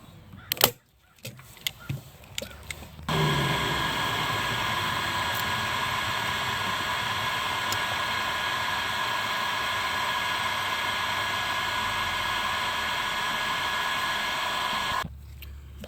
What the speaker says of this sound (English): We're going to take this loose right here, heat gun it, and pop that off.